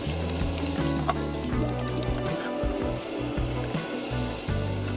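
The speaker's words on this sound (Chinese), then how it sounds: "另外起个锅， 葱姜爆香" Scallion and ginger sizzle loudly in a hot wok for cabbage and braised pork, a steady dense frying hiss with stirring scrapes, close and continuous.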